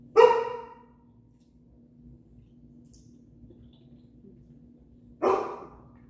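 Two separate single dog barks, fairly close and sharp, one at the start and another about five seconds later, with a quiet steady hum between them.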